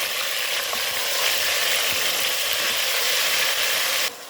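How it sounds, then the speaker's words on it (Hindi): Steady, loud sizzling of grated tomatoes frying in hot oil, a dense crackling hiss that continues without pause and drops off slightly at the very end. "ये हमने यहाँ पे जो गरम तेल में टमाटर डाले थे"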